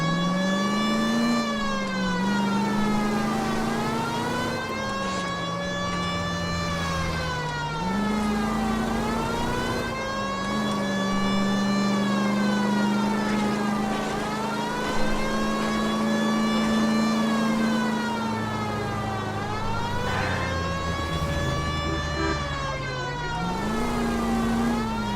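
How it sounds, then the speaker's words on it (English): Police car siren wailing in the L.A. Noire video game, a steady rising and falling electronic wail over a low, continuous engine drone that swells as the car revs, loud and unbroken with no talk. "Set on the sirens."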